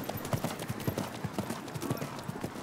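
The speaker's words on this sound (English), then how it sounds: "I think you've got a horse that has a nice gallop" Horse hooves gallop steadily in rapid rhythmic beats across an arena during a show jumping competition, heard fairly close amid a broad crowd and ambient wash.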